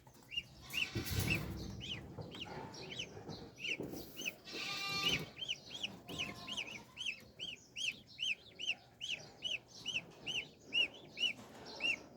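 Five geese move around a pen shared with a dog, honking and clucking in short repeated calls that grow into a steady, rhythmic run of close, fairly loud honks, with some rustling and knocks early on.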